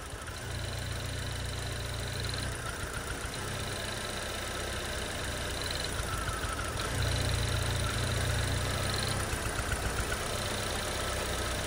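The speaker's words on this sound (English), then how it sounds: "We're going to press each individual cylinder and you'll hear it chug." Car engine idling during a fuel injector balance test, its steady low hum dipping into rough chugging stretches as individual cylinders are cut, one after another, with no talk.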